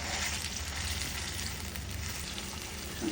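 A ground spice paste of garlic, nuts and raisins hits a hot pan while beef kofta curry cooks, giving off a steady, soft sizzle and frying crackle with no talking.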